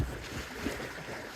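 Wind and water around a sailing boat under way in a good, sometimes gusting wind, a steady rushing wash with buffeting wind noise, brief and continuous, no voices.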